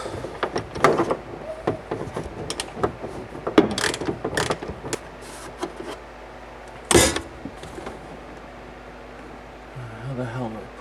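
A ratchet turning a T50 Torx bit to remove an upper seat belt bracket on an SN95 Mustang, brief clicking ratchet bursts and metallic clunks scattered between pauses, with someone talking at points.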